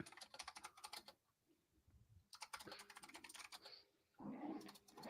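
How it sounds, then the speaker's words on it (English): Keys clattering on a computer keyboard in rapid bursts, close and quiet, with a short pause midway before the tapping resumes. "I hear you typing."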